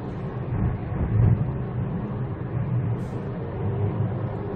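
A 2016 SM3 car accelerating on the road, a steady low engine rumble with a mild swell in the middle, heard from inside the cabin without talking.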